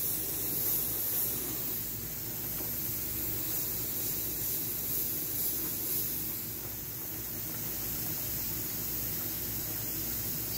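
An airbrush sprays paint onto a tumbler, a soft, steady hiss running the whole time at moderate distance, no one talking.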